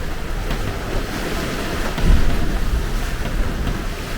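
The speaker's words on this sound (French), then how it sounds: "La houle est là aussi comme prévu." Atlantic sea swell and waves off Los Gigantes, Tenerife, roll and wash steadily, mixed with gusting wind noise, one surge briefly swelling louder near the middle.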